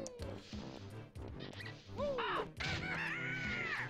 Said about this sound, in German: So, hier kommt ein Vogel raus.